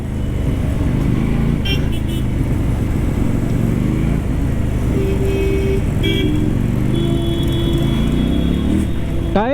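A Keeway Benda V302C two-cylinder, belt-drive motorcycle runs nearby, its exhaust holding a loud, continuous throb throughout, with a short horn-like tone partway through.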